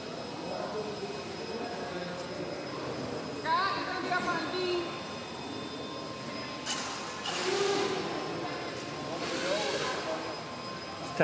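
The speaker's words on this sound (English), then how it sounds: "Tacking up the motor, trying to get that thing to run." At a tractor-pulling event, the small motor of a modified RC pulling tractor is revved and strained, rising and falling in several surges under a steady background whine, while an announcer talks over it.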